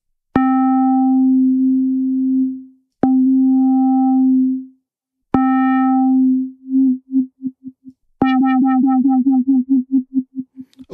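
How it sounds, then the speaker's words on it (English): Krill virtual analog synth playing sustained notes, with the LFO on the filter pulsing the last two notes in a fast, regular wobble. The notes are clean and separated by short silences, with no voices. "And you can also set the LFO on the filter as well."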